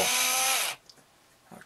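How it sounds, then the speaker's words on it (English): A power drill bites into a lemon-wood sculpture with a loud, steady high whine for under a second, then stops abruptly, leaving quiet room tone and a faint knock. "Got to do this carefully because I don't want to hit the face with the drill."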